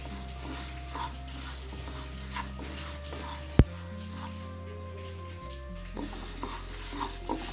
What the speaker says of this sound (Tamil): இதை நல்லா செவக்க வறுத்துக்கணும்.